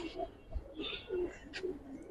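A red khaki male giribaz pigeon, a hyperactive tumbler at a loft, gives a few soft low coos with brief pauses between, close and alone, with faint higher chirps from other birds.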